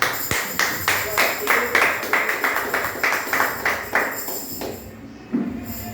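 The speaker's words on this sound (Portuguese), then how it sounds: "Podemos assentar e aplaudir o Senhor por tudo." A church congregation applauds together during a Portuguese-language service, with steady rhythmic clapping at moderate distance that fades out after several seconds.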